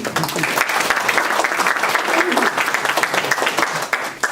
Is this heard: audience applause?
yes